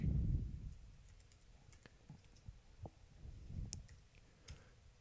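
A computer keyboard is typed on in short, faint bursts of quiet clicks spread across a hushed room, with a soft thump near the start and no speech.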